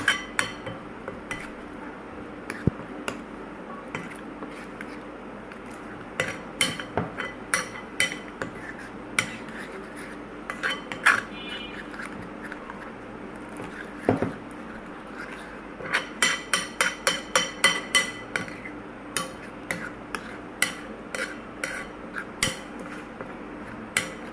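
A spoon mixes chili powder and spices in a bowl, giving many light clinks and taps, sparse at first and then in quicker clusters, fairly faint and close.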